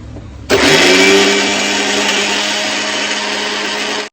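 A kitchen mixer grinder blends garlic with soaked dried red chilies, salt and a little water, starting abruptly after a faint lead-in and then whirring loudly and steadily without a break.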